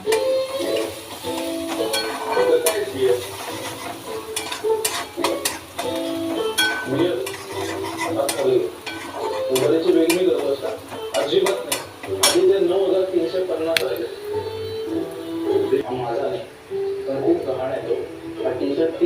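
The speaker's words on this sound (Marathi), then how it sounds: "मिरची टाकली आपण छान अशी फ्राय करून घेऊ कांद्यामध्ये आणि आता आपण थोडीशी हळद टाकू जास्त नाही थोडीशी टाकायचे आणि मिक्स करून घ्या" Onions frying with chili and a little turmeric in a pan for a bean stir-fry, a continuous sizzle with frequent spoon clinks and scraping against the pan while someone talks over it.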